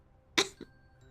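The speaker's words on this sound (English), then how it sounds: "GR-G28 starts coughing violently" GR-G28, a character in the video game GFL2 Exilium, coughs violently: one sharp, loud cough followed quickly by a second, softer one, alone in a quiet scene.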